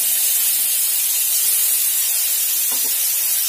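Chopped medium-sized mango hits hot spiced oil for a mango dal, giving a loud, steady, close-up sizzle that hisses without a break.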